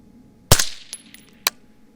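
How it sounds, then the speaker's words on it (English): A PSA AR-15 rifle fires a single sharp, loud report that decays quickly, followed by a faint distant echo and another short crack. "Let's take a shot and see what happens."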